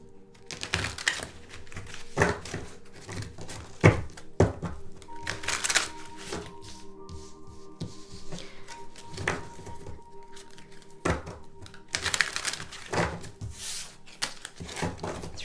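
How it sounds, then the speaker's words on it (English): A deck of tarot cards is shuffled by hand in a quiet room, close up, giving several separate bursts of riffling and soft slaps with pauses between them and no talking. "Let's do a couple more shuffles."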